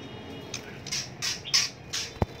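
A white-rumped shama chick at the nest gives a few separate harsh squawks, short bursts spaced irregularly and heard close, with a sharp click near the end and no talk.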